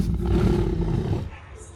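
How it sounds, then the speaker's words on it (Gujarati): A loud, deep, sustained roar from a tiger, close and powerful for about a second before it trails off. "લે આ વાઘ આવ્યો છે"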